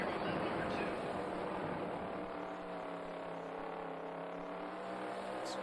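A sprint car engine in the PS2 game World of Outlaws: Sprint Cars 2002 at Williams Grove roars steadily at high revs through laps, with a constant droning buzz and someone talking over it.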